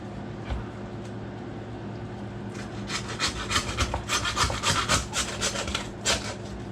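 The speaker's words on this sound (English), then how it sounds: "That's where having that meat saw, and it's not a good one. It's just the old cheap version." A cheap handheld meat saw cuts through pork on a farm, starting with faint strokes and building into a quick run of loud, rhythmic rasping back-and-forth strokes over a low background hum.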